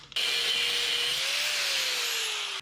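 A threaded rod is cut down with a power tool during a 1999 Chevy S10 LS swap, a loud, steady grinding whine that runs unbroken for about two and a half seconds and then stops, with no talking.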